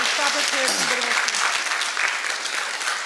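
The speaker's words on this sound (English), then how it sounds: "Give him a clap." Audience applause for a guest speaker at a fashion design graduate school event, steady dense clapping throughout with a voice speaking briefly over the start.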